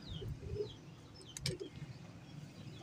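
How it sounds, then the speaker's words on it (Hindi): A sword-feathered pigeon gives soft, low coos, faint and close, with a few distant chirps from other birds and light background noise. "तो तलवार नुमा पर का कबूतर है ये।"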